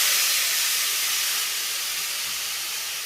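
Raw mango pieces hit mustard seeds spluttering in hot oil in a pan, setting off a loud, steady sizzle that fades slightly over three seconds.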